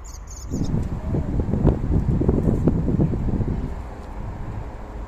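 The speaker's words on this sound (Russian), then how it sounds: "У пруда здесь относительно сильный ветер, еще машина ездит, так что меня, может быть, нехорошо слышно." Strong wind buffets the microphone beside a pond in an old cemetery, a steady low rumbling roar that swells and holds for several seconds, close and loud, with faint insect chirps above it and no talking.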